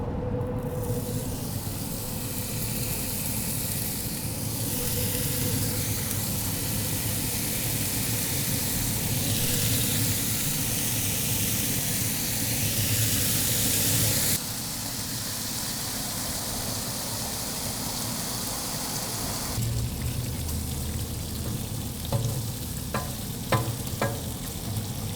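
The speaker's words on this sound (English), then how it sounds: "We're gonna cook off all our bacon." Bacon fries on a hot cast iron griddle over a pellet grill's firebox, a dense, loud, continuous sizzle and crackle that drops somewhat partway through, with a few light scrapes near the end.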